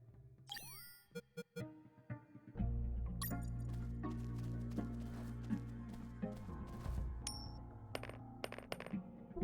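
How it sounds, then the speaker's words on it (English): Coins dropping onto the ground in the UnMetal stealth video game, a few bright metallic clinks and jingles early on, followed by low game ambience and scattered interface blips. "guards love picking up free coins off the ground"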